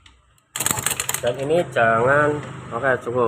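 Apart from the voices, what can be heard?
Yamaha motorcycle engine kick-started, rough ticking timing chain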